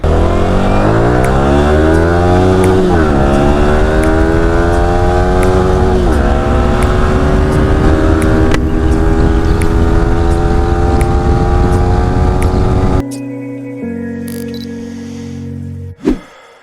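A Yamaha R15 V4 motorcycle with an aftermarket exhaust revs hard and close, rising in pitch in repeated climbs to the rev limiter, then drops to a rough, lumpy idle with one sharp blip near the end.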